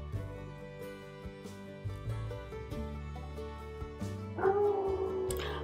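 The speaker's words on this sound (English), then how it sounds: "Oh my goodness, can you hear my dog?" A dog barks and yips outside, with a few sharp calls and whimpering howls rising over sustained tonal background sound, a louder burst of whining near the end.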